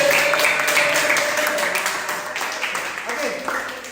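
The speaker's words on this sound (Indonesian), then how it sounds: "Oke, tepuk tangan." A classroom full of students breaks into applause, steady dense clapping that gradually fades over a few seconds, with voices mixed in.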